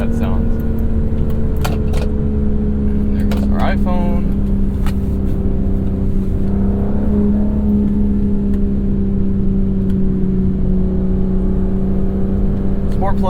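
A 2025 Aston Martin Vanquish driven on a canyon road with its exhaust set to quiet gives a steady, close engine drone and road roar throughout, with a person talking over it.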